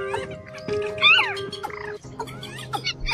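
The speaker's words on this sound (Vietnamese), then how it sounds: "Đây chỉ là một đoạn ngắn trong tiếng chim chuẩn đầy đủ và cập nhật mới nhất để đi bẫy" A dense bird call recording used for trapping, mixing watercock, trích ré and mắt xéo calls: overlapping loud chirps, whistles and gobbling squawks in quick, busy succession with no talking.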